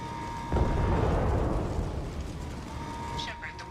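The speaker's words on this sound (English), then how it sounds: "Fire in the hole! Going to explode." A Mass Effect 2 explosion bursts in loudly and rumbles on for a few seconds, a broad roar that slowly fades under the game's ambient hum.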